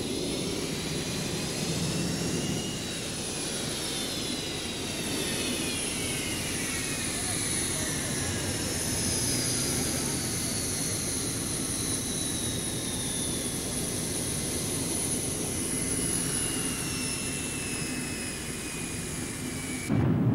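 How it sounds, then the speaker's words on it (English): Twin Pratt & Whitney F100 turbofan engines on an F-15 Eagle spool toward take-off thrust with a loud, sustained roar and high whining tones sliding downward, while a voice narrates over them. "the massive Pratt & Whitney F-100 turbofan engines, part of the secret of the Eagle's phenomenal performance, are brought up to take-off thrust"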